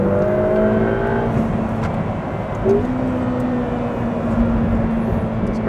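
Ferrari Roma sports car engine held at a steady, loud drone while driven hard into a right-hand corner, the pitch dipping briefly mid-way before settling back, heard from inside the car.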